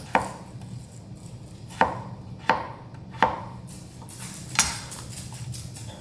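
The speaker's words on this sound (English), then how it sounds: "washed red potatoes right here that I'm just gonna chop up into small cubes" A knife chops washed red potatoes into small cubes on a cutting board, giving five sharp, separate thuds at uneven intervals over a quiet kitchen background, with no talk.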